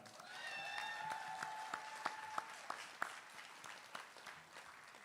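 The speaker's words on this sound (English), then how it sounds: "A round of applause for that." Steady applause from a commencement ceremony audience at the University of the Virgin Islands swells and then thins into scattered claps, a few whistles ringing out early over the crowd.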